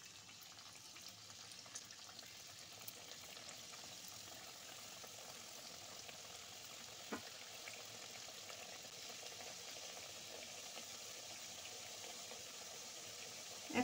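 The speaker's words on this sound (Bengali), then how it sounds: "এবার একটা একটা করে চিপস তেলে দিয়ে দেবো।" Potato chips sizzle in hot oil over medium heat, a faint, even crackling hiss that holds steady throughout with no voices, broken by one small clink near the middle.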